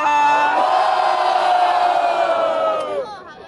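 A large crowd at a rap battle roars with cheers and shouts, loud and sustained for about three seconds before fading out.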